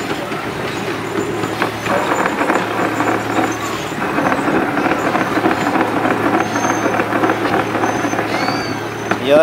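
A miniature railway train rumbles along steadily at Park Slip, Tondu, a continuous close mechanical clatter and hum with faint background voices.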